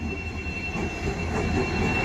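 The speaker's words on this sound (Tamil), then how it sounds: "நமக்கு இந்த ட்ரெயின் வருது பரம்பரை ரயில்வே ஸ்டேஷனில் இந்த ட்ரெயின் வருது" A passenger train pulls into a railway station on its run in from Chennai Egmore, with a close, steady rumble of wheels and carriages and a thin high squeal held throughout. No voices.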